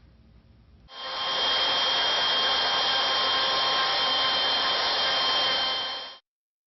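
A plunge router cuts wood on a candlestick blank, a loud steady high whine that starts abruptly, holds for about five seconds, then stops, with no talking.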